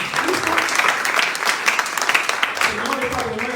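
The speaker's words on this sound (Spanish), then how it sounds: "Dale un aplauso fuerte, por favor" Loud, sustained applause from a church congregation during a Spanish-language sermon, a dense roar of clapping with voices mixed in underneath.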